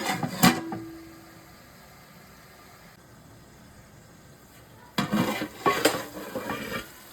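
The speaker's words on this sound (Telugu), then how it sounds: "మంచిగా ఆయిల్ వేసి, ఆయిల్ వేడయ్యాక చికెన్ పీసెస్ వేసేసి మ్యారినేట్ చేసినవి మొత్తం కలిపేసాను." Marinated chicken pieces tossed in hot oil in a pan, with clattering stirs and utensil clinks in a short burst, a quiet lull, then more stirring and scraping against the pan.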